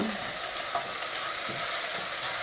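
Chunky potatoes frying and being stirred in a pan with translucent onions, giving a dense, continuous close sizzle with scraping stir strokes throughout.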